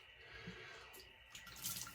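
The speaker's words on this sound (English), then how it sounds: "we got an ice water splash to close those pores" Ice-cold water splashed onto a face at a sink, heard as close, soft wet splashes and drips against a faint background hiss, with no talking.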